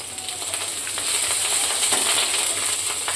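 Chillies, garlic and grated ginger sauté in hot oil over a low flame, giving a steady close hiss and crackle with a few light clinks of a spoon against the pan.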